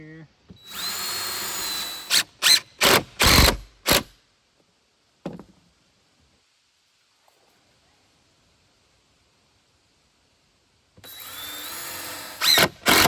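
Power drill driving screws into wood boards for a tool tower build, several short loud whirring bursts in quick succession, then a long pause with a brief spoken word before more drilling resumes.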